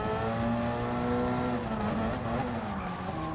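A race car in Gran Turismo drops through the gears and then accelerates, its engine tone sliding down and climbing again, steady and loud, with faint tire scrub.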